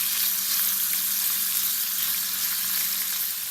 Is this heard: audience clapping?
no